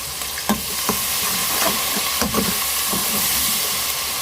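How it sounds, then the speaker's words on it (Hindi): Aloo tahari with crushed and ground red chilli frying in a pot, a loud even sizzle close by, with repeated scraping and light taps of a spoon mixing the rice, no voices. "साथ साथ आप इसको मिक्स करते रहें।"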